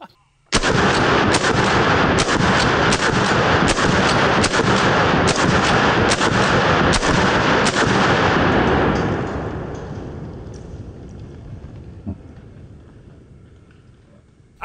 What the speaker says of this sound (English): now that we've shot both of these guns